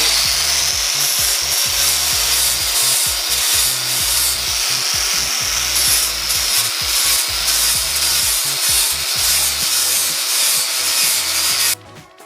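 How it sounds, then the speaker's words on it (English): Power sander working over wooden logs for a double-size log bed, a loud steady abrasive rasp running continuously for about twelve seconds with no talk, ending in a brief clatter. "I actually sand them off."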